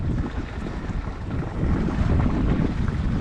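Steady wind rumbles across an open microphone with a broad, continuous roar on a fishing boat on the Mediterranean.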